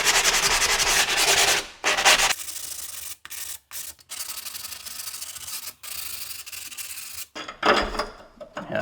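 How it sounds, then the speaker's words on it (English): Hand sanding with a sanding pad on a cut edge while tiling a shower niche, a series of close, loud scraping rubs in bursts separated by short pauses. "You just take a sanding pad."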